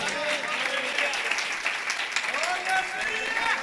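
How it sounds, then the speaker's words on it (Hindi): Congregation applauding for Jesus Christ during a Hindi-language church service, a steady dense wash of clapping and crowd noise with some voices mixed in, loud and continuous throughout. "यीशु मसीह के लिए जोरदार तालियां बजाएं।"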